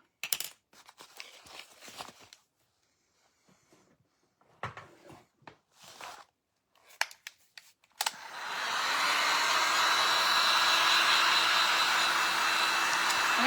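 Scattered handling rustles and soft knocks come first, then a blow dryer drying paper switches on and runs as a loud, steady roar for the last five seconds.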